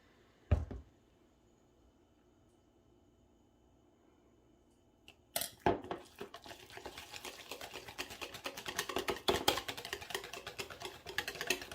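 Potatoes and honey are tossed together in a bowl. After a quiet stretch, a sharp knock is followed by busy, sticky clicking and scraping that grows denser and louder, close by.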